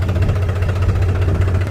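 A New Holland 5510 4WD tractor engine with a rotavator, running as a loud, steady, close diesel drone with a low throbbing rumble.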